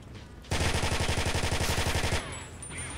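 Rapid automatic gunfire from the Battlefield 1942 Desert Combat mod, a loud, close burst of evenly spaced shots lasting under two seconds and standing out sharply against quieter game ambience.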